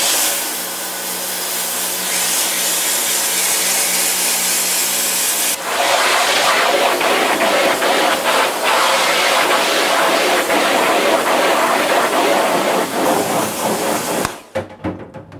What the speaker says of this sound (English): let's pressure wash this guy out